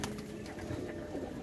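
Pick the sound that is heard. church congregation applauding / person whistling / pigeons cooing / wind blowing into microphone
pigeons cooing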